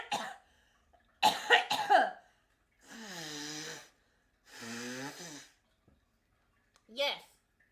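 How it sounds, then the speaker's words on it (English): A person coughs in several harsh bursts, with throat-clearing, a long wheezy snore-like snort and a final short cough, alone and close up. "Just watch me cough for the next 10 minutes."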